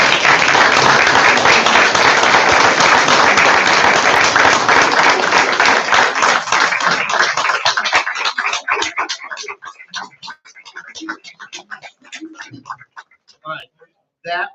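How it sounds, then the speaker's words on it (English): Applause for retirees at a county board of education meeting, dense and steady clapping from a room full of people that thins out into scattered individual claps and dies away with a few voices. "let's give all the retirees another round of applause"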